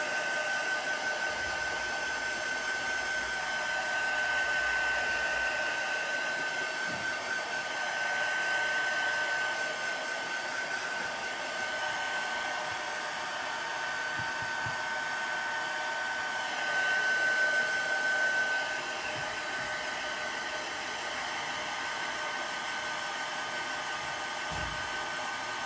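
A hair dryer runs steadily for a long stretch close by to dry chalk paste, its continuous whine wavering slightly in loudness with a few faint knocks.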